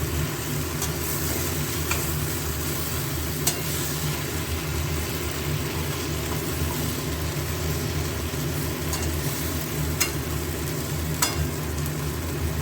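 Shredded cabbage and egg sizzle in a pan on a gas stove, a constant close frying hiss with occasional soft clicks and scrapes from stirring, and no voices.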